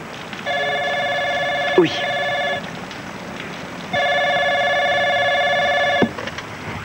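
A telephone rings indoors with two long electronic bursts separated by a short pause, clear and fairly close. A person briefly speaks between the rings.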